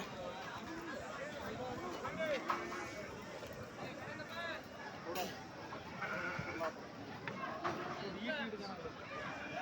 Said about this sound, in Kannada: ಬಜಾರ್ನಾಗ ಬರೀ ಟಗರ್ ಮರಿನ ಕಾಣ್ತವೆ ಎಲ್ಲಿ ನೋಡಿದ್ರೆ